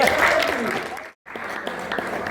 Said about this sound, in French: j'aimerais qu'on les applaudisse encore une fois,